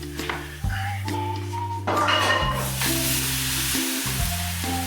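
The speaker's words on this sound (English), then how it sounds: "now that this is all seared, let's get that in there" Seared beef brisket hits the hot pot with a loud, steady sizzle and frying crackle, clattering briefly as the pieces are stirred in, with no talking.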